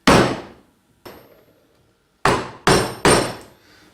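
A wooden mallet drives a chisel into wood while carving the neck and waist of a rocking horse, giving five sharp, close knocks with short decays, the first two spaced apart and the last three in a quicker cluster.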